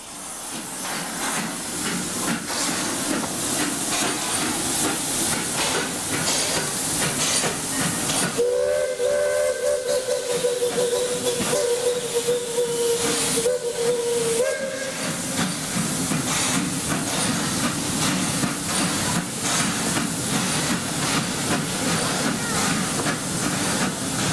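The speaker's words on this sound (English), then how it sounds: "our locomotive, number 11, is uncoupled and taken to the shops for servicing" Steam locomotive number 11 of a mixed train arriving at Bucay station, Ecuador, gives a loud, sustained whistle lasting several seconds over a continuous roar of hissing steam.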